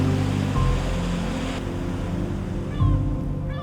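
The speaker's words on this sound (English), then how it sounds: "Some days the waves come right into town." Ocean waves surge along the coast, a broad, continuous roar of surf and wind blustering close to the microphone, with a heavier wash swelling near the end.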